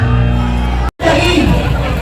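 Large protest crowd in the Philippines shouting for Marcos to resign, a loud massed roar of many voices with a brief cut near the middle before the shouting resumes.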